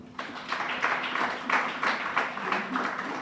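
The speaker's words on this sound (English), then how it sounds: "They give him a big round of applause, please." Applause from a Ministry of Health audience, a soft, fairly distant patter of clapping that holds steady for a few seconds without any speech over it.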